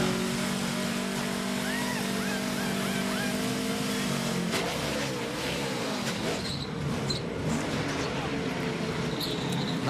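A NASCAR Nationwide Series race car with no first gear struggles away from pit road at Ford 300, its engine droning and lurching under track noise and commentators talking.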